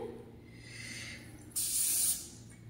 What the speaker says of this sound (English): the first thing she wanted me to do was to spray this pan.